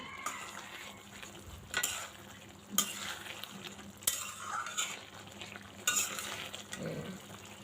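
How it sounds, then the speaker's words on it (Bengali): Okra cooked with mustard being stirred in a pan, a steady sizzle with scraping spatula strokes and occasional sharper clinks against the metal, close and fairly loud. "ওটা দিয়ে একটু নাড়াচাড়া করে একটু হবে, তারপর নামিয়ে নেব।"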